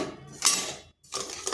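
A spoon stirs thick carrot sweet in a pan, making close metallic scrapes and clinks in two short bursts split by a brief pause.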